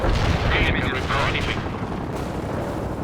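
Artillery barrage in World in Conflict: heavy, continuous rumbling blasts and booming impacts roll together loudly, with radio-style voices talking beneath.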